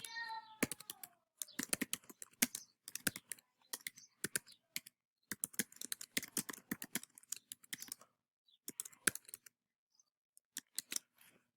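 Fast, irregular clacking of computer keyboard keys in bursts with short pauses, close and fairly quiet, as a slide title is typed in Google Slides.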